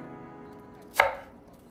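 One crisp knife cut lands on a cutting board as vegetables are sliced thin, a single close, sharp knock over near silence.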